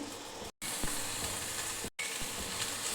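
Chicken sizzles loudly in a pan over fried onions, a dense, constant crackle with two brief cuts to silence.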